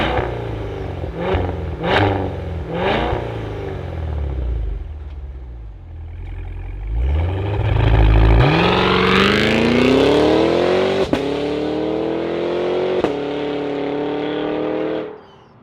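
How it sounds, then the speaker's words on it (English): The supercharged V8 of a 2024 Cadillac Escalade-V cranks and fires, then blips through several sharp revs before climbing into a long, rising howl with supercharger whine, loud and close, before cutting off. "let's fire up this V8 and hear her sing"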